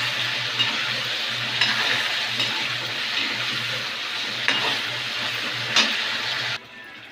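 Paneer pieces fry in a pan until reddish, making a broad hissing sizzle with a few louder stirring bursts before the sound abruptly drops away near the end.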